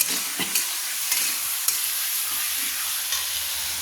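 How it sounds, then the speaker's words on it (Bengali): Fried potatoes are stirred through spice paste in a hot pan, giving a continuous close hiss of sizzling with a few sharp scraping stirs. "দেখুন দিয়ে আলুটাকে আমি কষিয়ে নিচ্ছি।"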